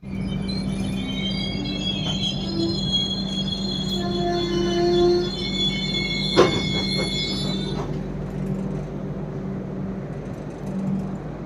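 A passenger train in India runs on its rails near Ratnagiri, heard from inside as a steady loud rumble with a drawn-out metallic wheel squeal, a brief clank midway, and the squeal fading into continuous rolling noise.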